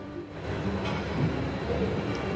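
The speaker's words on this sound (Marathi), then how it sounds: "छान आता एकदा फिरवून घेते मी हे मिक्सरमध्ये।" An electric mixer grinder whirs steadily as it blends curd, gram flour and water into a batter, a continuous dull motor drone for a couple of seconds without any speech.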